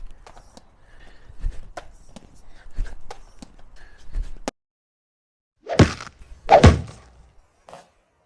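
Rubber foam balls are shot from a Powell Craftsman 22 lacrosse stick, with a series of soft, close thuds and knocks, then a short silence and two louder, fuller impacts followed by a faint final tap.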